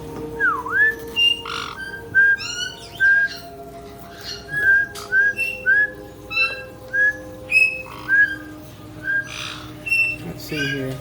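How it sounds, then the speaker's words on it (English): Pet parrots, including Sunny, Mango, Penny and Scooby, whistle repeatedly at close range, trading short rising and falling whistles and squawks in a quick, uneven rhythm over a faint background hum. "We got a couple parrots there."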